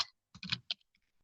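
Someone types a short search word on a computer keyboard, a quick close burst of several key clicks followed by a few faint, sparse taps in an otherwise quiet room.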